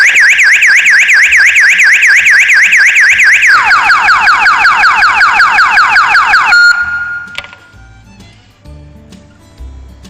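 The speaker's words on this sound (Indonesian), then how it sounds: "alarm akan menyala" An electronic alarm on a fish pond aerator sounds when the aerator stops working: a loud, close warbling siren tone that shifts to a lower pattern midway, then cuts off, leaving quieter background noise.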